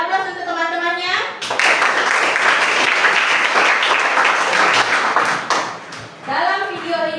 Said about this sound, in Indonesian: Beri aplaus untuk teman-temannya